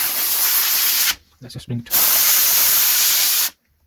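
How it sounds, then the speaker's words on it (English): A Comforday steam cleaner blasts steam onto a shoe in loud, hissing bursts, cut off twice with short pauses, and a voice speaks briefly during the first gap. "So I'm just going to steam the entire shoe to see if it can help."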